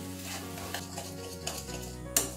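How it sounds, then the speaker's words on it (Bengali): Moong dal being sautéed with ginger paste, coriander, turmeric, Kashmiri chilli powder and salt in a pan, a soft sizzle with scraping stirs and a sharp utensil clink near the end, quiet and without speech. "সবকিছু দিয়ে এবার আমি ডালটাকে একটু কষিয়ে নিচ্ছি।"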